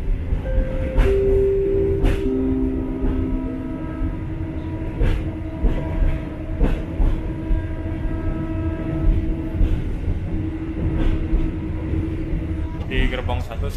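Rajabasa passenger train running on rails between Bandar Lampung and Palembang, a steady rumbling roll with faint clickety-clack, heard from inside a carriage while an onboard announcement plays over it.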